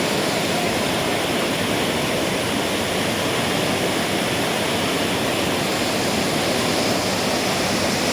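Huai Chan waterfall in Khun Han, Sisaket, Thailand, running with reddish floodwater, a constant loud broadband roar with no pauses.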